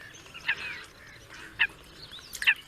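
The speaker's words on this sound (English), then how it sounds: "The bar-headed geese are seasonal migrants from lands as far as China and Mongolia." Bar-headed geese, seasonal migrants, honking at Kundakulam bird sanctuary in the middle of a village; three sharp honks at irregular intervals over faint background calls and ambient noise.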